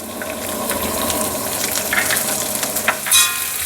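Shallots and dried red chillies sizzle steadily in hot oil in a pan for a Kerala leaf thoran, a continuous crackling hiss with small spatters and a brief sharper burst near the end.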